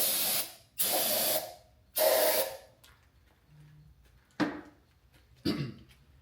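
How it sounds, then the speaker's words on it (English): Several loud hissing bursts of brake cleaner spray on an SR20DET engine head, three long ones in quick succession, then two shorter blasts after a pause, close up with quiet gaps between. "we'll spray this out with some brake clean"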